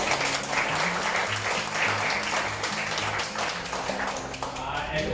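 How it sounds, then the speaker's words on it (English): Dinner guests applauding at a Pakistani cuisine dinner in a restaurant, steady close clapping heard over low, repeating background music for the whole stretch. "I think they deserve a round of applause."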